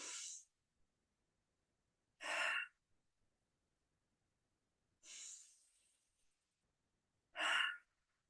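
Slow, deep meditation breaths come as four airy inhales and exhales, each lasting about half a second, separated by long silent pauses and heard up close.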